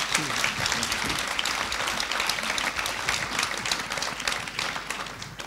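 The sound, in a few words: audience applauding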